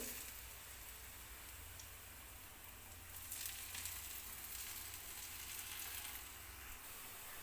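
Urad dal medu vada frying in hot oil over medium heat, a steady soft sizzle and crackle that swells slightly partway through, with no talking.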